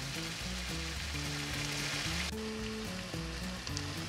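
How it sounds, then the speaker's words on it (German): Cooking cream poured into a hot pan of cauliflower mushroom, a loud close sizzle and crackle that shifts abruptly partway through, with steady bubbling after, no voices. "Jetzt lösche ich das Ganze mit Kochsahne ab."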